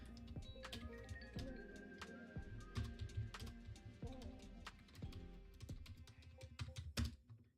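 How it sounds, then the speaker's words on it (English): A computer keyboard is typed on in quick, uneven bursts of sharp clicks, fairly quiet and close, continuing for several seconds with no voice over it. "You hear all my various typing?"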